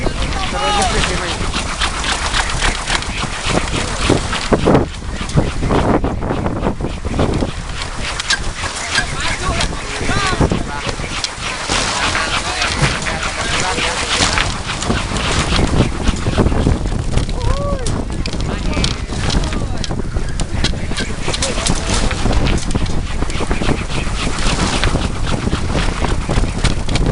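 A traditional kolecer wooden windmill spinning in strong wind, giving a loud, continuous whirring roar mixed with heavy wind buffeting that stays steady throughout.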